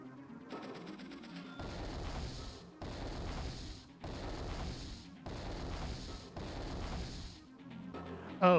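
Cannon fire in Advance Wars 2 arrives as a steady run of repeated booming bursts, five or six evenly spaced volleys with short gaps between them, loud and close, and no one talks over it.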